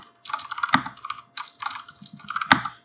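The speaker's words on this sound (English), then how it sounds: "Let's type in git restore," A git command is typed on a computer keyboard in quick, irregular clusters of close, crisp keystrokes, with a few sharper key hits.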